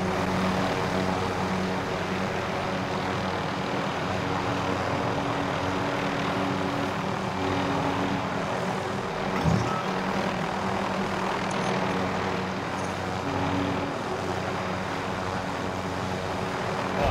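A constant droning helicopter engine roar in a video game, steady and loud throughout, with a faint thump partway through.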